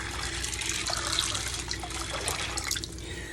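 Water streams and splashes steadily into a pot of beans being soaked for dal, a continuous close pour lasting a few seconds with no talking.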